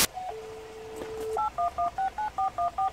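Telephone keypad DTMF tones dialing a call, a short steady tone followed by a quick even series of about eight beeps, clear and close with no talking.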